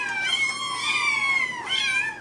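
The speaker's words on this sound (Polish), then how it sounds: "podłożyłem głosy miauczących kotów jako dźwięki pod przejeżdżające" Cat meows are dubbed over passing Formula E race cars: long, loud, drawn-out meowing cries, one sliding into the next, with a second sharper meow near the end before it cuts off.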